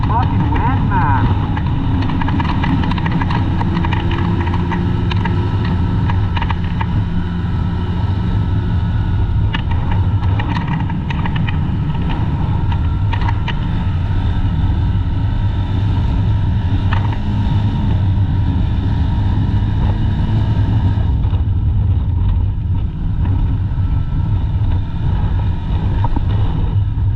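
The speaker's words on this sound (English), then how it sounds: "Holy fucking wind, man." Strong wind roars steadily across an open boat during high winds, a dense, loud rumble of wind and microphone buffeting, with brief muffled voices underneath.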